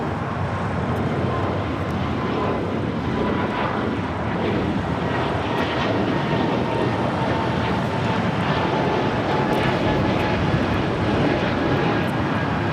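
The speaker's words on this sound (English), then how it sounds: "This is Breeze Airways Flight 707 taking off to Jacksonville on an A220-300" Breeze Airways Airbus A220-300 taking off from LAX, a steady, loud broadband jet engine roar that holds strong and unbroken throughout, with no voices over it.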